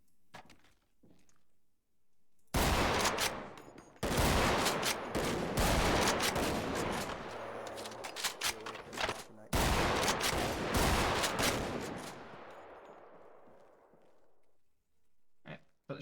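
Shotguns firing at a police shooting range, with several long volleys of rapid overlapping blasts from multiple shooters, loud and close, separated by brief pauses and ending in a fading echo, with a few faint voices.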